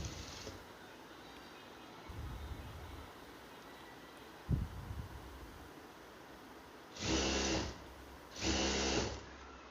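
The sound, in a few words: sewing machine stitching cloth strap for face mask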